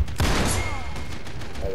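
Gunfire in the Uncharted 3 co-op adventure set in Syria plays as a dense, steady roar of shots and rattling bursts throughout, loud and continuous, with a faint metallic whine partway through.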